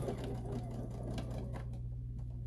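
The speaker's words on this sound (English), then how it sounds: "So we're going to sew along all 4 sides." Sewing machine stitching the sides of a fabric bracelet: a steady, rapid mechanical whir with a low motor hum and fine ticking, running continuously at close range before easing off near the end.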